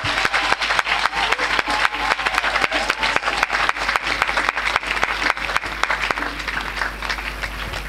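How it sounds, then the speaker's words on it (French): A church congregation at a gospel convention in Korhogo bursts into loud, sustained applause, dense rhythmic clapping that carries on for several seconds before gradually thinning out. "Acclamons ensemble."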